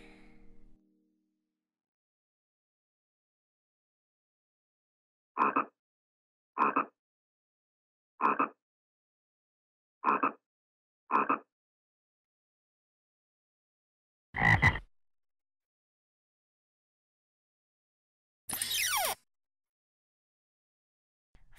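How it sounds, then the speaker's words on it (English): A frog croaks in a toddler learning show by a river, giving a series of short, evenly spaced croaks followed by two longer, raspier calls, each clear and isolated against silence. "Frog."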